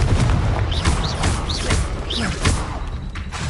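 Blasting-spell explosions boom in the Hogwarts Legacy video game, heavy thuds landing repeatedly amid continuous combat noise, with a voice calling out spells throughout.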